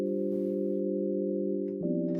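A steady synthesized sine-wave tone from a subsynth with a soft synth patch, holding several pure stacked pitches, shifting once to a slightly different chord near the end, with faint noise at start and finish.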